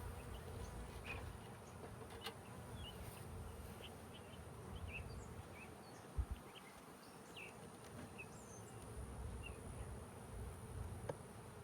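Soft, continuous buzzing of a swarm of honey bees around a hive, with individual insects droning past now and then; faint and steady throughout.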